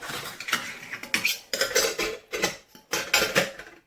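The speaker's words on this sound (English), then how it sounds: "It's a little 300ml bowl. So that sits inside there nice." Lightweight titanium camping cookware being nested, a small 300ml titanium bowl set down inside a pot, giving repeated close metallic clinks and scraping rattles in irregular bursts, with no talk.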